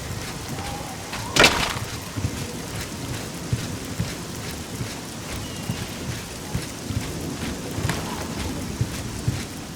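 Steady, heavy rain pours through the Anvil docks in the Oblivion video game. A dense wash of rainfall runs throughout, with a sharp thunder-like crack near the start and faint patter beneath.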